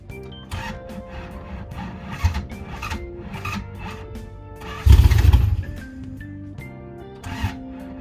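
Toyota Celica RA64 with a 1UZ engine swap cranking without catching, a rhythmic grinding starter whir with a heavier surge partway through.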